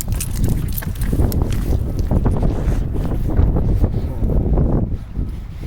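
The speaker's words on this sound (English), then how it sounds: "Kind of windy out here." Wind buffets the microphone outdoors in a shopping area before a snowstorm, a loud, steady low roar with irregular gusty surges throughout.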